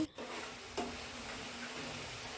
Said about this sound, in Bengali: কিছু সময় নাড়িয়ে ভালো করে ভেজে নেব ভালো করে নারকেলটা ভেজে নিতে হবে